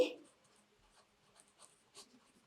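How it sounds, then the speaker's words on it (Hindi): A pen or pencil scratches out a vegetable name in short, faint strokes after a brief louder noise at the start, quiet and close with soft breathing between. "नेक्स्ट हम एक वेजिटेबल का नेम लिखेंगे"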